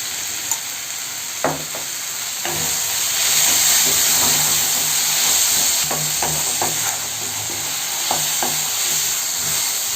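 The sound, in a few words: tomatoes sautéing in pan for pepper chicken gravy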